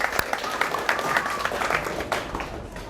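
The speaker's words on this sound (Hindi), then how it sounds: "तालियां होनी चाहिए इसके लिए।" Audience applause during a career counseling session, a room of people clapping steadily with a few sharp louder claps standing out.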